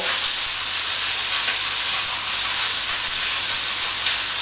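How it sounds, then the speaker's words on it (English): Burger patties fry in olive oil in a pan with a loud, steady sizzle and hiss that runs unbroken from start to finish, close up and with no talk over it. "I'm just going to put a little bit more in the pan just to make sure that I get that fry really in there"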